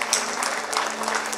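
Applause from an audience welcoming a guest at a spiritual class in Chennai, a soft, steady patter of clapping heard at a distance throughout.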